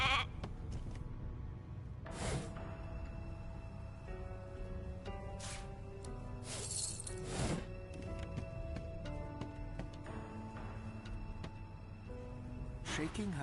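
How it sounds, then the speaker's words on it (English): A sheep in the video game Divinity: Original Sin 2 bleats several times, with short loud cries spread over a low, steady game background, and no voices. "A sheep."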